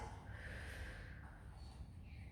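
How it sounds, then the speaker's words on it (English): Children breathe in and out slowly during a kids' yoga class, a soft, steady airy breath held quietly with no talk over it. "In, breathing in and out."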